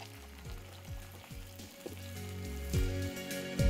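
Chopped tomatoes and three dried chillies are stirred into a frying masala for mutter paneer, a continuous sizzle punctuated by rhythmic scraping strokes that grow louder toward the end, close up and without speech.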